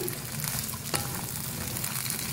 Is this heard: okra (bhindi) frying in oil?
yes